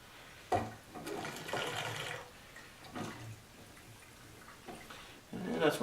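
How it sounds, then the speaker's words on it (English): Diesel fuel glugs and splashes from a jerry can into a small Yanmar L70 6HP diesel engine tank in uneven bursts, with pauses between pours and a louder gush at the end, a voice talking over it. "And of course these jerry cans suck at pouring."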